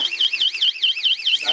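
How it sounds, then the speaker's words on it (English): A screamer alarm device, the kind found during a police search, sounds a loud piercing electronic wail that warbles rapidly up and down in a steady repeating cycle. "That's the alarm."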